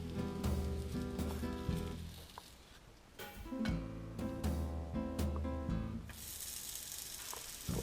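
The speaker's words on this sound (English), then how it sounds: "we heat up the tortillas with the oil and" Corn tortillas frying in hot oil in a pan, a steady bright sizzle with spitting crackles throughout, over a bed of music that drops out near the end while the sizzle carries on.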